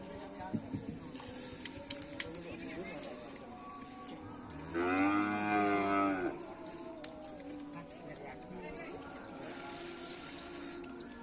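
One long, drawn-out cow moo lasting over a second, close by, with faint background sounds before and after.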